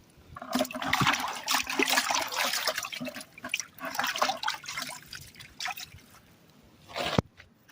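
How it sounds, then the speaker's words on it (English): Water sloshes and splashes inside a small gold prospecting rig in uneven close-up surges, then trickles and drips, with one sharp knock near the end. "Just kind of slosh it around a little bit."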